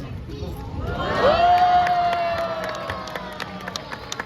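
An aquarium audience at a sea lion show cheers and shouts, the noise swelling to a loud peak and then fading, with a single high whistle tone and scattered claps.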